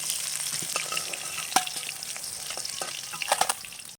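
Catla fish pieces rubbed with salt and turmeric fry in hot oil in a pan, making a steady close crackling sizzle with occasional sharper pops and spatters throughout and no voices.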